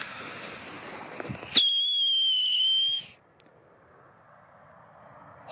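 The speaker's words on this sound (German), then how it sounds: "Ganz schön der Pfeifton." A whistling firework rocket (Luftheuler) launched on New Year's Eve gives a loud, sustained high whistle lasting about a second and a half. A sharp burst opens it, and it cuts off abruptly to near silence.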